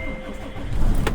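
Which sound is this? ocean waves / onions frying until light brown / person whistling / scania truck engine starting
scania truck engine starting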